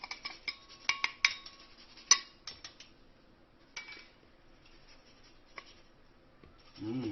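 A spoon stirs nutmeg and cinnamon into hot cross bun mixture in a bowl, giving light scattered clinks and scrapes, louder early on and then softer, with no talking.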